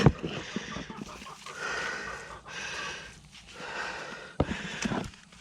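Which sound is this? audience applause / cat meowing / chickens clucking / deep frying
chickens clucking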